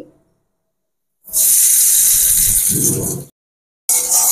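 Turmeric, salt, cumin and Kashmiri chili powder hit hot oil in a pan and set off a loud, close, sizzling hiss that fades and then starts again.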